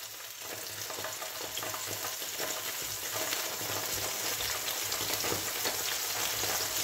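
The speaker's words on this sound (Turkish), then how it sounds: "Şöyle yağım kızdıysa hemen bir kontrol edeceğim. Yavaş yavaş kızıyor." Cooking oil heats in a frying pan and crackles with a steady, close sizzle that grows slightly louder and busier as it goes, with no talking.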